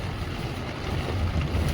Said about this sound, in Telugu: మంచి కొడుతుంది వర్షం అయితే. ఘోరం అంటే ఘోరంగా గాలి.